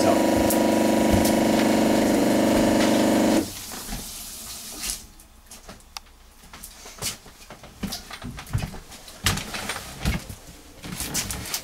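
A narrowboat's water pump drones with a steady, loud mechanical hum for a few seconds, then cuts off abruptly, leaving quiet background clatter and faint bird calls.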